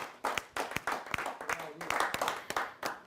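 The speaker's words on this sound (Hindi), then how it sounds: "तो जरा एक बार जोरदार तालियों के साथ स्वागत करें" Audience at a Hindi kavi sammelan claps to welcome a poet onto the stage, a run of scattered, sharp hand claps with uneven rhythm that swells and fades over a few seconds, fairly close with a faint voice mixed in.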